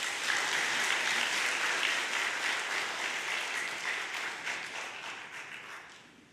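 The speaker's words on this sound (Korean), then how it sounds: "다시 한번 박수로 감사를 표시하죠." An audience applauds steadily at the end of a lecture on Korean Christianity. The dense clapping fills the room and slowly fades over several seconds.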